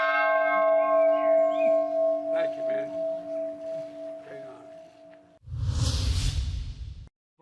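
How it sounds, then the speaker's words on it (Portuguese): A peace bell struck at the Irish president's residence in Dublin rings out with a long, sustained tone that slowly decays over several seconds, followed by a brief loud whooshing burst. "tocou a campainha da paz"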